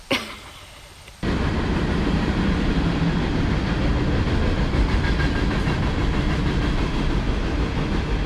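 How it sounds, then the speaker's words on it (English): A train rolls loudly past a wooded access road beside the railroad track in Wisconsin, a steady close rumble with rail clatter that bursts in after a second of quiet ambience and holds for the rest. "All right, trains for the dramatic final note of Wisconsin."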